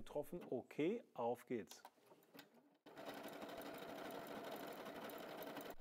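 A W6 N 5000 Exklusive sewing machine runs steadily, sewing stitch pattern 39 in one continuous whir after a short stretch of someone talking.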